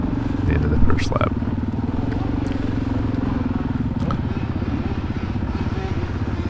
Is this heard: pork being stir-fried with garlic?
no